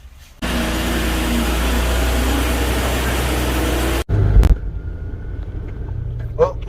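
A car out on a road test drive after an alignment, with a steady loud rumble of engine and tire noise, a sharp break, then a quieter, softer rolling hum as it continues.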